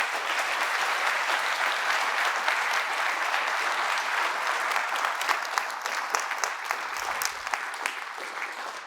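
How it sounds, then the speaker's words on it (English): A conference audience gives a big, sustained round of applause for the merchant track speakers at a closing keynote, dense steady clapping filling the hall throughout with no talking. "What I want to get us started with is a big round of applause for our merchant track speakers."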